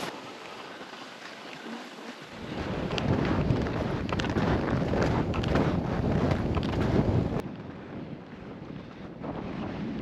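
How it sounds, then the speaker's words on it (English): Wind gusting across a glacier in the Canadian Rockies on the Wapta Traverse, buffeting the microphone with a loud, roaring rumble that swells and then eases slightly. "Things got a little windy there and cold as we passed just above the bow hut"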